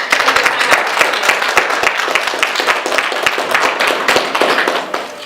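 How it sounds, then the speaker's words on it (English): An audience gives a round of applause to panelists at a wholistic health panel discussion at Howard University, with close, dense, energetic clapping sustained for several seconds before tapering off at the end. "we can get a round of applause for our panelists"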